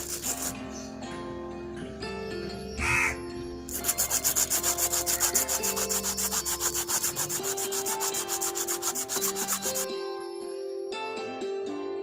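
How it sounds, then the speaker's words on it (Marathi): Pieces of wood rubbed flat against an abrasive surface, a steady rhythmic scraping and rasping that runs continuously, close and fairly loud. "घासून सपाट करून घेतलेले तुकडे"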